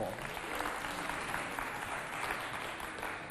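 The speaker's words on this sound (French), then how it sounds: "On les applaudit bien fort." Loud audience applause at a cultural youth event in Africa, a dense continuous wash of clapping from a crowd, steady throughout without pauses.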